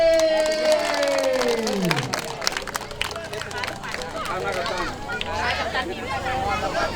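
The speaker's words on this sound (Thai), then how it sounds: "ขอเสียงปรบมือดังให้กับสิสมานอะคาเดมี่" Crowd cheers and claps for the winning team at a summer youth football tournament trophy ceremony for under-10s, a busy babble of voices and applause over an announcer's fading tone, sustained and moderately loud throughout.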